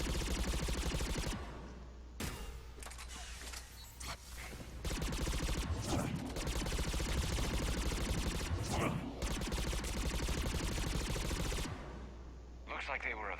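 Gunfire in Mass Effect 3, in a place called Sanctuary: loud bursts of rapid shots with heavy low thumps run through most of the passage, broken by brief pauses, and someone talks over the firing.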